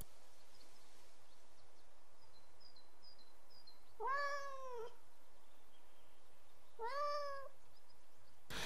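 Two distinct cat meows, one around the middle and another a few seconds later, each a clear rising-falling cry over a quiet ambient backdrop in the video game Behind the Frame: The Finest Scenery.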